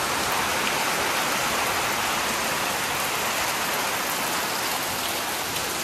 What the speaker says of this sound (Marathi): आता मित्रांनो, मस्त पाऊस आलाय बघा.